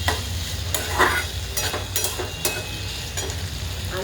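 Boiled potato pieces sizzle steadily in hot oil for sabudana khichdi, with a continuous fry hiss broken by several sharp bursts of stirring and spatula scrapes, close up and without talk.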